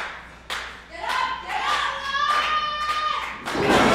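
A small crowd at a pro wrestling show claps in scattered bursts, the applause fairly near and moderate, with some voices and a thump mixed in.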